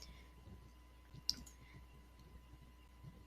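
A single faint mouse click returning an assignment in Google Classroom, brief and quiet against low background hum.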